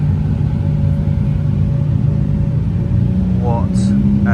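Hypercar convoy rolling into the Goodwood car show: a steady, loud low engine rumble from multiple cars moving close by, with a brief rising rev near the end and people talking over it.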